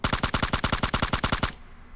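In PUBG Mobile, a rifle fitted with a half grip fires a rapid 15-round burst, loud and evenly spaced shots for about a second and a half before cutting off into a short fading tail.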